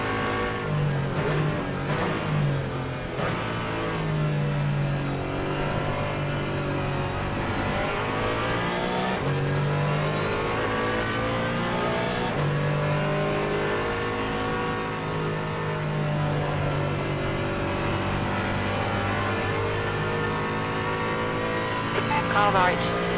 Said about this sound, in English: Faster car coming.